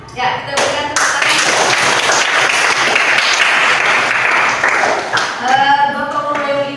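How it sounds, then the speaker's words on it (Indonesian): Applause from a classroom of students during a civics lesson, a dense steady wash of clapping lasting several seconds, with voices rising over it near the start and again as it fades. "Ya, kita berikan tepuk tangan."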